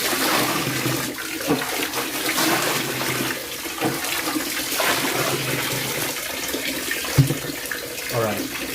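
Water splashing and running over a dirty air conditioner filter, a steady broadband rush with a few louder splashes and gurgles, close and continuous throughout.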